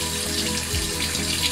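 Steady water pouring from a tap as the tip of a skincare product is washed during a skincare routine, a continuous close rush with no voices.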